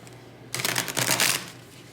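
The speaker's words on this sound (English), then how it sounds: "Look, see, I'm shuffling." A deck of tarot cards being shuffled close by, a quick burst of riffling flutter lasting about a second after a moment of quiet.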